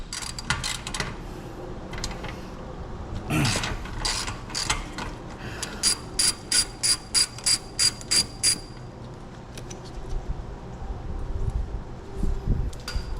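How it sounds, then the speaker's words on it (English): Ratchet loosening the exhaust clamp bolts on a motorcycle muffler install, with rapid bursts of clicking and a run of evenly spaced ratchet strokes in the middle, close and fairly loud, mixed with metallic handling noises. "You see I'm just loosening them up here."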